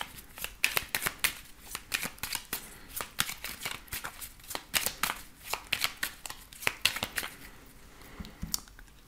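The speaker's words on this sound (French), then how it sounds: "Alors, on va voir également les énergies avec l'oracle de Béline" Oracle cards being shuffled and cut, a dense run of quick papery riffles and slaps, close and steady throughout with no talking over them.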